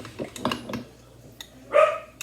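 Dogs give a few short barks in a home kitchen, with a couple of quick yips early on and a louder, sharper bark near the end, close by and free of talk.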